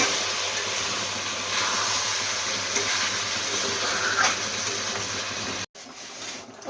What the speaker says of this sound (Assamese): এইবাৰ মাংস উতলি আছে